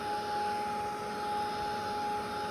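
A handheld craft heat dryer blows steadily over stamped tin during a Lavinia Stamps project, a constant close whirring drone with a thin high whine and no pauses.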